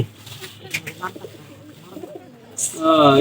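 Pigeons coo in soft, low, rounded calls at close range while people talk over them, followed by a louder burst of voice and noise at the end.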